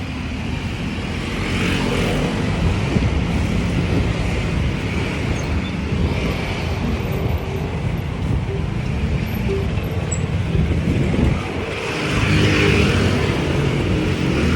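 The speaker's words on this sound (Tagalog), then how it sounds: "Daming sasakyan." Busy road traffic in Naples, Italy, with many vehicles giving a continuous wash of engine and tyre noise that swells as some pass nearby, while voices talk intermittently.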